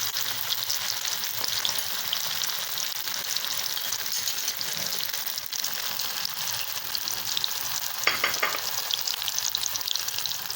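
Mutton kola urundai balls fry in hot oil, a steady close sizzle with constant bubbling crackle that runs without a break, plus a brief scrape near the end as the balls are turned.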